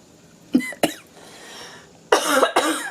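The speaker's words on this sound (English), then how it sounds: "when you spray this stuff, don't breathe it in right away because it does make you cough" Coughing set off by breathing in cake pan spray while baking a chocolate cake, two short sharp coughs followed by a pause and then two louder, harsher coughs, close to the microphone.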